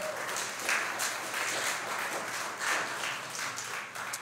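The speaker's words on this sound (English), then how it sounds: "So give them a round of applause." Church congregation applauding during a Sunday worship service at a United Church of Christ, a steady spread of clapping filling the room at moderate level throughout.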